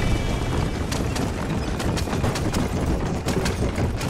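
Galloping horse hooves in Red Dead Redemption beat in a fast, even clip-clop rhythm, loud and near, with faint whinnying and game ambience underneath.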